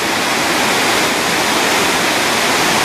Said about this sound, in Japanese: 白ひげの滝という滝があります